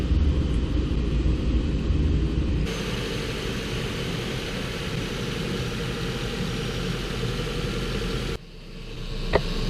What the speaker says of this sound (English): Clutch kicked on.